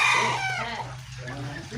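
A rooster on a farm with cattle and ducks crows in a brief, loud, drawn-out call that fades into faint background murmur.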